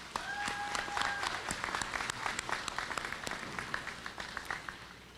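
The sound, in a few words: applause at a college commencement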